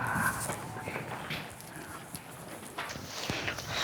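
Horse hooves clip-clop at a walking pace, a run of uneven soft knocks close by, mixed with faint background noise.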